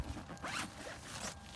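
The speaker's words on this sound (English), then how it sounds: "Of course, we gotta zip this." A Wolfwise pop-up tent is zipped up in a few soft, quick zipper pulls, close but quiet, with no talking.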